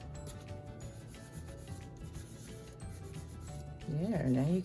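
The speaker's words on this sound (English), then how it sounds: "you're just going to start rubbing the images to get the excess black ink off of it" Steady scratchy rubbing as a dried-out baby wipe is worked over black-inked images on paper, continuous and close, with a voice speaking over it near the end.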